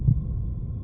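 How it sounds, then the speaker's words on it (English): A single low, muffled thump of a heartbeat in the video game Last Evenings on Earth sounds near and heavy, then fades into a steady low hum, alone without any talk. "The heartbeat is crazy."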